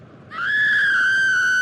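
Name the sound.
screaming after a car crash, story sound effect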